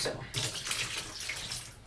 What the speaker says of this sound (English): Let's pour out this water.